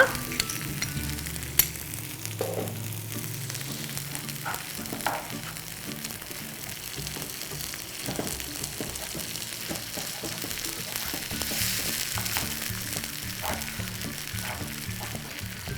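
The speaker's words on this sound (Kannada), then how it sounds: "ಬೆಲ್ಲ ಕರಗೋವರೆಗೂ ಚೆನ್ನಾಗಿ ಕುದಿಸ್ಕೊಳ್ಬೇಕು" Lemon gojju with jaggery, salt and a little cumin cooking in a pan, a steady close bubbling sizzle running throughout with occasional soft stirring sounds.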